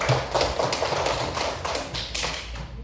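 Classroom applause from students after a group presentation, a dense, steady patter of many hands clapping close by for about three seconds, with no talking.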